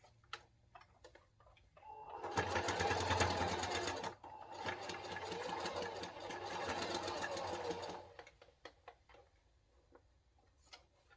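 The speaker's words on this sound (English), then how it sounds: "I'm about to sew it together" A sewing machine stitching together a teddy bear, two sustained runs of fast mechanical whirring and ticking separated by a short pause, close and fairly loud against a quiet room.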